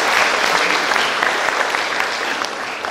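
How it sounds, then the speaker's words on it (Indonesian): A crowd claps warmly at a Christmas celebration in Ketapang, the applause thick, even and close for the whole short stretch, with no break or voice cutting through. "Oleh sebab itu kita tepuk tangan buat peristiwa kita."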